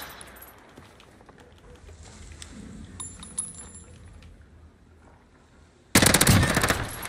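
Gunfire from the video game Warzone: faint scattered shots and clatter under background game noise, then a sudden loud burst of rapid automatic fire near the end.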